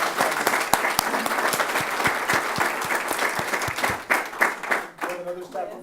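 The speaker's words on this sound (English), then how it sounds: "So how about another round of applause for our" Applause from an audience at a school board meeting, a steady wash of many hands clapping for about five seconds before thinning out, with a few louder nearby claps and faint voices mixed in.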